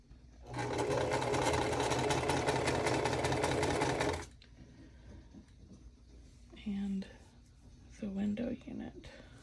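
A sewing machine runs in one steady, loud burst of stitching through a quilt block for a Farm Girl Vintage 2 Small Town house block, then stops, leaving quieter handling noises and a few short knocks.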